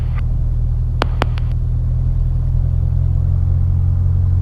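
Piper PA28 light aircraft engine idling steadily at 1200 rpm during pre-flight power checks, a constant loud low drone with a few brief high clicks near the start.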